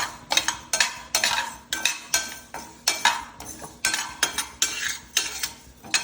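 Mustard seeds and fenugreek dry roasting in a pan without oil, stirred with a metal spoon: close, rhythmic bursts of scraping and rattling seeds repeat roughly twice a second, with no speech.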